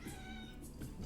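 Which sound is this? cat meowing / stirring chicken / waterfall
cat meowing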